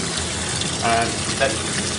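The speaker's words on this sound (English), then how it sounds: "We'll turn on the cold water." Cold water runs steadily from a kitchen tap in a continuous hissing gush, with brief voices speaking over it.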